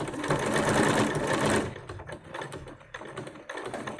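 A sewing machine runs close and loud along the upper edge seam of a fabric face mask for about a second and a half, then cuts off, leaving only quiet handling noise.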